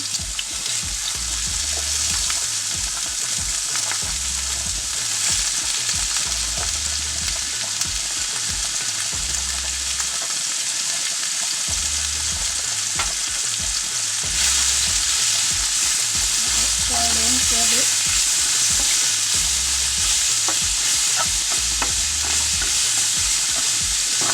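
Onion, mushroom and green pepper fry in a little oil, giving a loud, constant crackling sizzle up close, broken by rhythmic stirring and scraping, with no voices.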